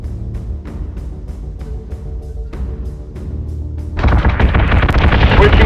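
Spaceship gunfire in the space combat video game Battlestar Galactica Deadlock: a string of rapid, evenly spaced booming shots over a low rumble, then a sudden loud, dense burst of continuous fire and explosions.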